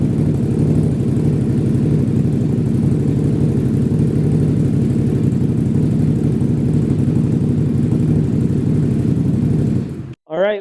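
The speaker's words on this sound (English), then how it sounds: "go ahead and fire the ATV up. We'll let the ATV run for about 20-30 seconds." A Can-Am ATV engine, an 850 being upgraded to 1000, idles steadily at close range with a constant low rumble, then cuts off abruptly near the end just before a voice speaks.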